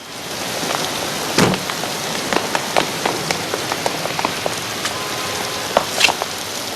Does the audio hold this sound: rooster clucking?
no